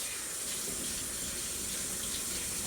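A kitchen sink tap runs while hands are washed under it, giving a steady, even gush of water with soft splashing, close and continuous.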